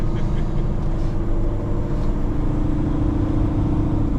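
A Peterbilt 389 truck with an 18-speed transmission driving on an icy road, a steady, loud low engine drone inside the cab.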